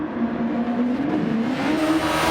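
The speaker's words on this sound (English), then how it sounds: "The two cars of the British racing team hammering down the straight towards the Elf corner" Race cars in GT Sport scream down the straight toward the Elf corner, a steady high engine drone rising slightly in pitch as they accelerate, loud and close without talk.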